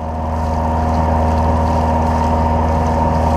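A Tartan sailboat motors under engine power at about 2,500 RPM through light winds in the Gulf off Marco Island, giving a steady, loud, droning engine hum with water rush that holds evenly throughout.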